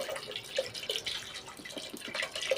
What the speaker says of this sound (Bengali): এটা সেদ্ধ হওয়ার জন্য একটু জল দিয়ে দিলাম